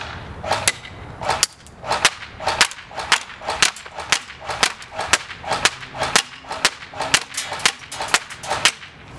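S&T Tavor 21 airsoft rifle fired semi-auto at a target 50 feet away, a steady run of about twenty sharp, snappy pops at roughly half-second intervals, close and crisp with no talking.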